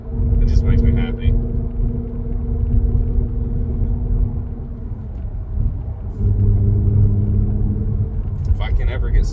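Tuned Audi B8.5 S4 with a supercharger, engine running steadily with a sustained whine over low rumble from inside the car, pitch shifting around the middle as revs change.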